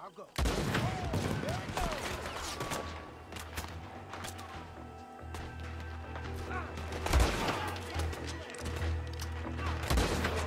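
Gunfire from Red Dead Redemption 2 rattles through a busy stretch of play, with repeated shots and bursts under a constant low game rumble, and voices talking over parts of it.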